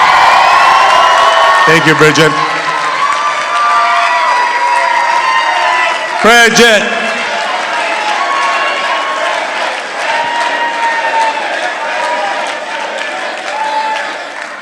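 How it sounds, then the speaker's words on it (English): Loud crowd applause and cheering with whoops fills a political rally hall after a candidate's speech on Ohio election night, steady throughout with shouts rising over it while someone speaks briefly. "can we give my wife an amazing round of applause"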